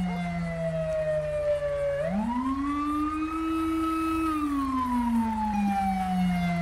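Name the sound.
ambulance siren in GTA 5 video game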